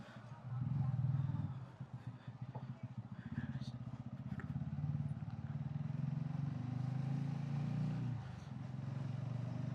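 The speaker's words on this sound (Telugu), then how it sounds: "సో మేము 3 బైక్స్ మీద 6 వెళ్తున్నాం." Motorcycles ride along a road in Pudupakkam, Chennai, three bikes carrying riders toward a temple, their engines a low, steady rumble heard from onboard amid faint wind and traffic.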